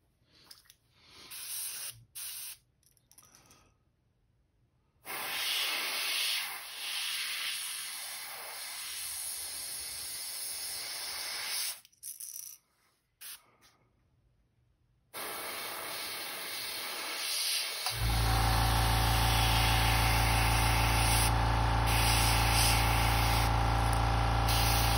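An airbrush hisses in bursts of varying length separated by silences while painting a custom crankbait fishing lure, ending in a sustained loud spray joined by a low mechanical hum.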